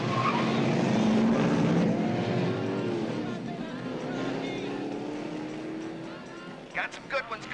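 Late-1970s race cars roar past with loud engines whining and rising in pitch, a steady drone swelling and fading, with brief sharp bursts near the end.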